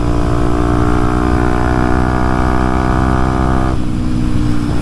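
A Kawasaki KLX 230SM motorcycle with its O2 sensor deleted runs at a loud, steady engine note while riding, then shifts down to a lower pitch near the end.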